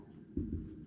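A pen moves across paper while a statistics probability answer is being written, heard as a soft, close scratching stroke lasting under a second at low volume.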